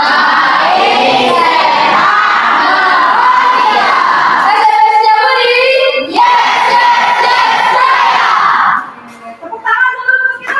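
A group of schoolchildren in a classroom shout a rallying cheer together, their voices loud and continuous, with a brief shift mid-way before trailing off into scattered calls near the end.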